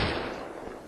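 A sniper shot in the tank game Panzer Command: Ostfront, caught as a loud burst of broadband noise that decays steadily over one second, heard alone without talk.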